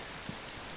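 Steady rain pours down in the survival game DayZ, a dense, even hiss with a couple of slightly heavier drop patters, no voices.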